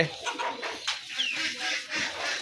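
A chicken clucks in short, soft bursts against a hissy background, with a faint voice now and then.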